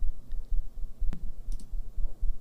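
A computer keyboard's number key is pressed in short, crisp clicks, several taps spaced irregularly across the moment, close and clear with no speech.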